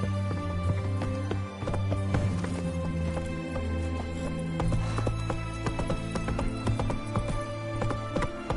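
Galloping hooves of Roach, a horse in a PS4 game, clatter in a steady fast rhythm throughout, with occasional snorts over a sustained musical drone.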